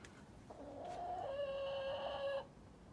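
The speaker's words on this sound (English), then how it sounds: "There's grey chicken and white chicken." A chicken in a garden coop lets out a single drawn-out, tonal call lasting about two seconds, fairly faint against a quiet outdoor backdrop.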